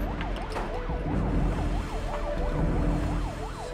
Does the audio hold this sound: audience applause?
no